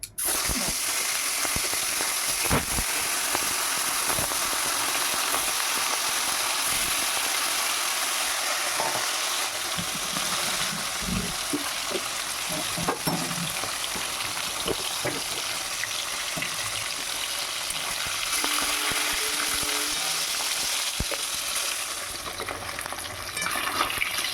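Fish coated with turmeric and salt frying in smoking-hot oil, a loud, steady, crackling sizzle that runs without pause, close up, with faint clinks and no talking.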